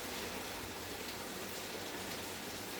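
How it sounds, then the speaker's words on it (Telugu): Steady rain falls continuously, a dense even hiss with no pauses or voices. "బయట వర్షం వస్తుంది"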